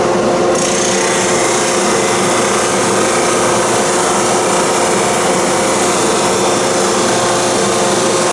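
Steady, continuous rasping of sandpaper against a Baltic birch plywood bowl with a woven pattern, loud and close, with an even abrasive hiss throughout and no talking.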